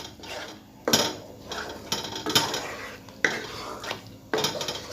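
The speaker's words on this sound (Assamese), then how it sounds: "মই এইখিনি আকৌ লৰাই দিম লৰাই আছোঁ" A spoon scrapes and clatters against a pan while shahi paneer is stirred. The strokes come at a regular pace, close and fairly soft, with no talking.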